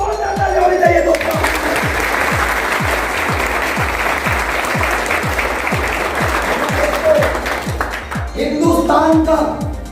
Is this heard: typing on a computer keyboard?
no